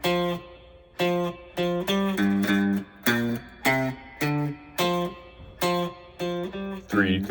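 A slow single-note guitar line, each note plucked separately in an even, measured rhythm with short gaps between, about a dozen notes ringing close and clear, no speech.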